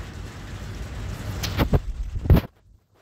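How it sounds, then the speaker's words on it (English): Rain falling outdoors by the Mississippi River at Red Wing, a steady hiss with a few sharper knocks and splashes near the end before it cuts off abruptly; no voices. "Been raining all day."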